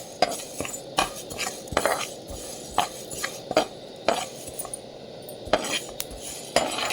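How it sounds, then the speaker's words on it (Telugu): Husked black gram (urad dal) roasting in a pan, dry and without sizzle, with repeated metallic clinks and scrapes of a spoon stirring against the pan in an irregular rhythm. "పొట్టు మినపప్పు కూడాను దోరగా వేయించుకోవాలి"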